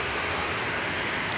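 A TUI airliner departs Manchester Airport for Palma de Mallorca, its engines giving a steady, broad roar that holds even throughout, with no voices.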